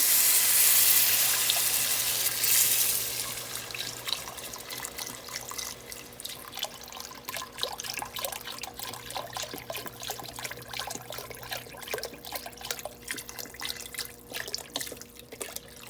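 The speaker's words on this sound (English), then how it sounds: "I'm going to pour it in here and cover the chicken." Thirty-two ounces of chicken broth pours into a pot over chicken, a loud rushing gush at first that settles into a steady splashing trickle and drips for the rest of the pour.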